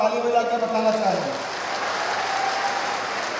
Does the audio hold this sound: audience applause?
yes